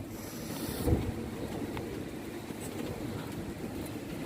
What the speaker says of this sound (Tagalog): Yan ang tunog ng hangin.